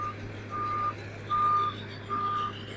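Trucks at a large open cast coal mine sound reversing alarms: three evenly spaced, clear electronic beeps over a low, constant machinery rumble, moderately distant.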